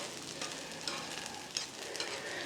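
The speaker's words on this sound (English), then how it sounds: "like a shallow fry on these tenders" Chicken tenders shallow frying in oil on a Blackstone flat-top griddle, a steady crackling sizzle with a few sharper pops, fairly faint and even throughout with no voices.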